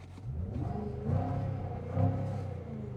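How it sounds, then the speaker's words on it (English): A Jaguar F-Pace SVR in sport mode revs twice while standing, each blip swelling into a deep rumbling surge before settling back to a moderate idle, close and fairly quiet overall. "Let's rev it up."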